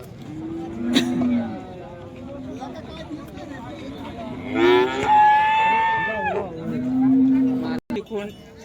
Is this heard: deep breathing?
no